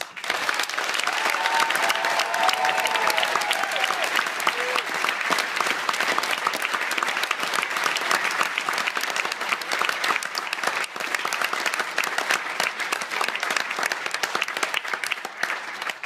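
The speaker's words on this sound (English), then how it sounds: "So I'd like to all clap all the players." A crowd applauds football players of Bradford City after a Wembley final, sustained dense clapping that holds steady for a long stretch, with a brief voice early on.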